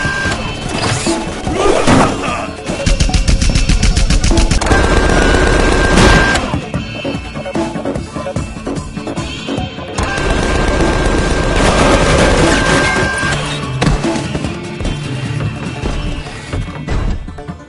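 Heavy gunfire in the video game Tales from the Borderlands, dense bursts of automatic shots and crashes, loud and continuous in long stretches with brief lulls between volleys.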